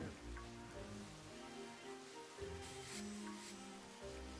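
Rain falling in the Pokemon Scarlet video game, a soft, steady patter heard faintly alongside low tonal game music, continuous throughout.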